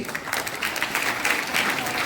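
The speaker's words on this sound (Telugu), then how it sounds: "క్లాప్స్ టు వెంపటి కుటుంబ శాస్త్రి" Applause for a Padma Shri awardee at a Republic Day gathering, a burst of clapping from a crowd that runs steadily through the short moment.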